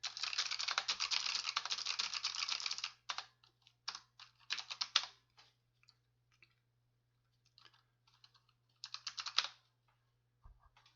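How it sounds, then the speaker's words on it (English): Rapid typing on a computer keyboard, a dense burst of close clicks for about three seconds, then scattered short key clusters and single taps separated by quiet gaps. "I'll just type some gibberish."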